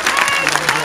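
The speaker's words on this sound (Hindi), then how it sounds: "देखो जोरदार ताली बजा कर इनका स्वागत करो।" Dense applause from a rally crowd at the Cutting Memorial Grounds in Nadesar, sustained and loud through the whole brief moment, with a voice faintly underneath.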